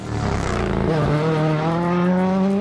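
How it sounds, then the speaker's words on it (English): A loud, close Toyota Gazoo Racing rally car engine revs and holds a high, buzzing pitch that climbs steadily, dominating throughout. "The noise of the rally car is something which everybody"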